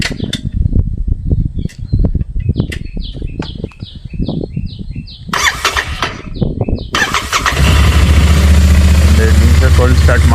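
A motorcycle cold start: repeated squealing starter bursts and chirps under loud voices, then the engine catches and settles into a steady, loud idle rumble that continues to the end.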